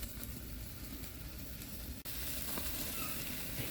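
Boerewors sausage searing over direct heat on a coal grill, giving a steady broadband sizzle that holds throughout at low level, with a brief dropout midway and no talk.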